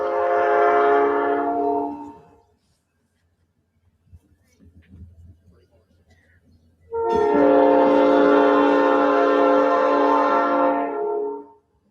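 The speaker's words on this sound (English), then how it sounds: "I think that train whistle was blowing for Javeayah." A train horn sounds two long, loud, sustained blasts in Aiken, South Carolina, separated by a few seconds of quiet with faint low rumbling between them.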